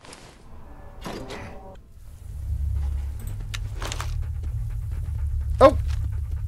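A dog panting in the video game Fallout London, rhythmic breathy huffs close by over a low steady rumble, with a brief louder whine near the end.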